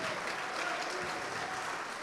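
Church congregation applauding together, a dense, even wash of clapping hands from a crowd, steady and moderately loud throughout with no talking.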